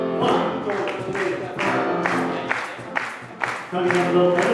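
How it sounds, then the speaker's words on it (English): Audience clapping along in time to live Sephardic music at a food and music festival, steady rhythmic claps mixed with crowd noise and singing over the band. "I need your clapping."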